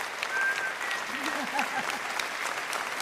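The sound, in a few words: triggered applause sound effect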